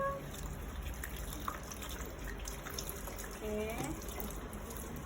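Tap water runs steadily as hands are rinsed, a continuous close wash with small splashes, while a person briefly speaks over it.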